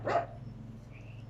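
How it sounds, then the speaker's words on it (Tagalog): A single short dog bark sounds at the start, fairly close, then fades into a quiet indoor room hum with a faint high tone. "Tahol."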